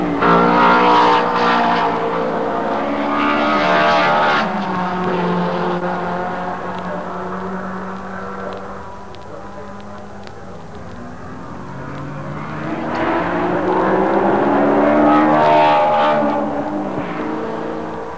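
Mercedes W196 eight-cylinder Formula One car at high revs, a loud harmonic engine howl that sweeps past, fades to a distant drone, then rises again as the car returns, with no talk.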